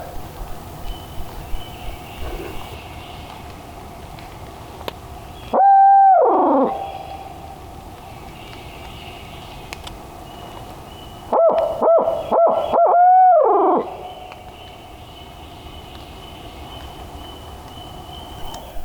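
Two bouts of loud owl hooting, several seconds apart, stand out against a quiet outdoor background with a faint, steady hum, during a turkey hunt on public land in Mississippi.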